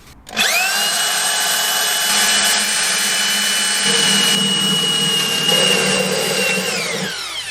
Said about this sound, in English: Proceeding with drilling.